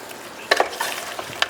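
Pepper chicken being stirred in a frying pan, a few brief scraping stirs over a soft, steady sizzle, close and fairly quiet.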